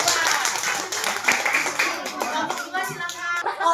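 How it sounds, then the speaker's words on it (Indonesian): Dense, continuous applause from a classroom of students fills the room for a presenting group, with voices mixed into the clapping throughout. "tepuk tangan untuk kelompok 1"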